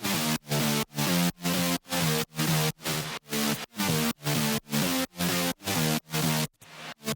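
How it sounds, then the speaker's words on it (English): A bass house main bass synth built from two saw waves pumps in short, punchy stabs, about two per second, with choppy gated rhythm and a brief filtered variation near the end, loud and alone. "the main bass sound, which sounds like this."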